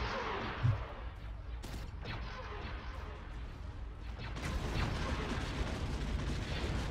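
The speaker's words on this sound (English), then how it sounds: "just listen to those explosions" Rumbling explosions and crashing blasts in a Star Wars space battle game, with a sharp hit early on and a denser, louder barrage building toward the end.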